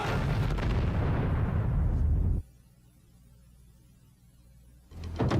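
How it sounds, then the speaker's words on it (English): Explosion in the film Interstellar at Dr. Mann's compound: a loud, sustained roaring blast with booming low rumble that cuts off abruptly into quiet, followed by another burst of noise near the end. "Cooper, there's been an explosion"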